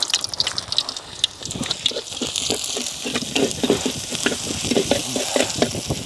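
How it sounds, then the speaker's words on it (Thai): Field rat meat stir-fried in a pan over high heat, a steady loud sizzle with scraping and tossing of the spatula throughout, close up and with no talking. "ผัดสามสหายครับผมผัดหนู"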